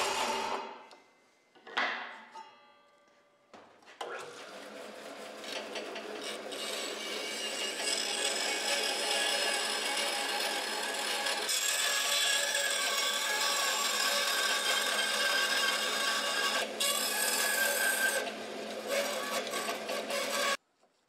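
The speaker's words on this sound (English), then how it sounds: "this is going to be a slot that I cut into here" A slot is cut into a wooden piece for a camera slider, producing a sustained rasping, grinding cut that runs steadily for most of the clip after a few brief knocks and scrapes at the start.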